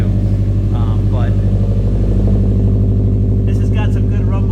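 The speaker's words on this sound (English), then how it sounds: "this has got some good rumble too" Subaru STI exhaust rumbles at a steady idle, loud and close, with a deep pulsing drone and someone talking over it.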